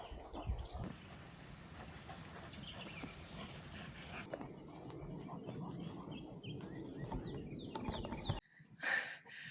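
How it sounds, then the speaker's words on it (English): Birds chirp and call amid a busy outdoor wash of animal noise over marshland, fairly faint and continuous, with a brief quiet gap near the end. "But there are a ton of birds out there."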